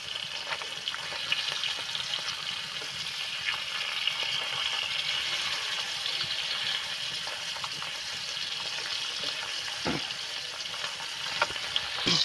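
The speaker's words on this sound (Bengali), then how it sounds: "মাছগুলো ভালো করে ভেজে নেব" Koi fish frying in hot oil, a steady dense sizzle that holds evenly throughout with faint stirring and occasional spatter pops, close and fairly loud, no talking.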